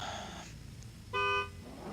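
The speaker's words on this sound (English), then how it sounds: "There's a horn and he's off and running in the dark" A car horn gives one short, steady honk at night to start a qualifying run on an unlit course, rising clearly above a low background rumble.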